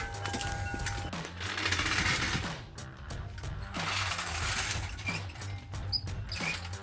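Jack lifting the rear of a 2009-2023 Ford F-150 from under the differential, heard as rhythmic mechanical clicking and ratcheting pumps over a steady low hum, close by with no talk.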